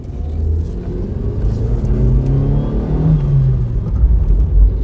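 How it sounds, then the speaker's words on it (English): A Vauxhall Astra F or Ford Escort Mk6 labours uphill, its engine droning loud and steady with a deep, strained rumble and rising revs throughout, no voices over it. "Engine makes all the noise and you're just not moving at all."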